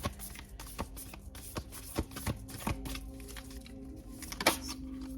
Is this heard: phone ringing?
no